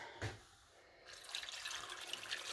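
Tap water runs into a soup pot for homemade chicken broth, a brief splash followed by a steady, close rushing stream that keeps building.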